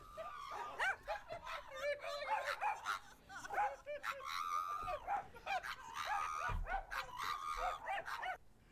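A pug yips, barks and whimpers in quick, high-pitched bursts close by. The run of excited sounds continues with little pause and only faint background voices.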